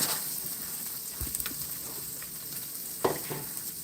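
Onion hits a hot pan and sizzles in a steady close hiss, with a few sharp pops and clatters breaking through the frying.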